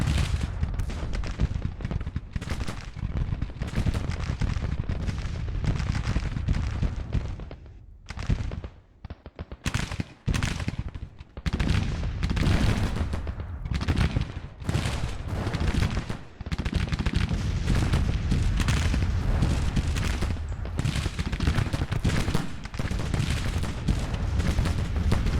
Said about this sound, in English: Our guns are trying to cover the crossing by multiple brigades.